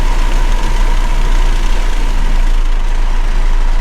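A new Toyota Supra cruising at highway speed produces a steady, loud low-frequency resonance drone, a constant booming hum with road and engine noise filling the cabin, unbroken throughout.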